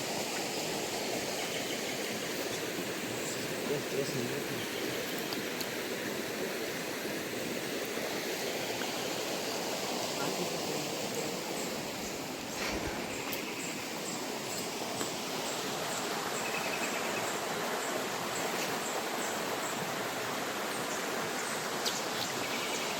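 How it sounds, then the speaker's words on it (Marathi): Stream water in the Konkan countryside rushes steadily downhill, a dense continuous hiss and gurgle that stays even and fairly loud throughout, with no voices over it. "हे पाणी खालती वाहत आहे"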